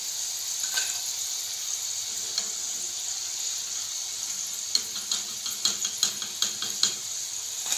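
Frozen garlic and ginger paste frying in about half a cup of ghee gives a steady, close sizzling hiss, with sharper stirring clicks and scrapes toward the end.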